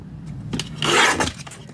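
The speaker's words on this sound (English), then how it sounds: "Now I'm just going to get my trimmer" A paper trimmer slicing through paper in a crafting setup, a brief rasping slide of the blade that swells and fades over about a second amid soft handling noise.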